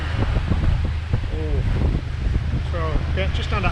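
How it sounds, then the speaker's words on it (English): Wind rushes steadily over a sailing boat running at about 7.5 knots in just under 20 knots of breeze off the port side, a constant low roar with water noise, while someone talks over it. "Well, we found a little wind."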